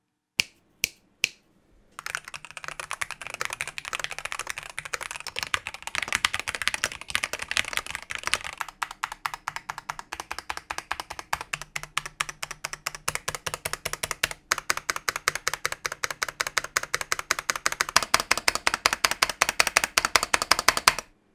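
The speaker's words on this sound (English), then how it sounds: "Let's go for a typing test," Typing on a DrunkDeer A75 Pro mechanical keyboard: a few isolated clacks, then a fast, continuous run of crisp keystrokes, close and clear, with no talking.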